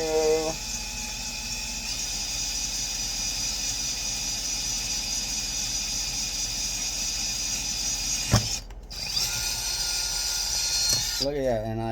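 A steady high-pitched whine of a drill boring through aluminum runs throughout, with a sharp clunk near the end as the bit breaks through.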